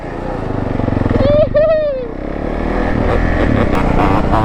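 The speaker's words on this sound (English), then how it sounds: "That two-stroke quad making noise." A two-stroke quad runs loud and close with a buzzy, ringing engine note that rises in a short rev and then settles into a steady drone, with voices talking over it.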